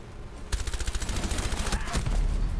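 Rapid bursts of gunfire from the Rainbow Six video game erupt after a short quiet lead-in, with a dense, sustained volley of shots continuing loudly to the end.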